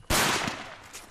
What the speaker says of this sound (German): Eine Sprengfalle wird ausgelöst.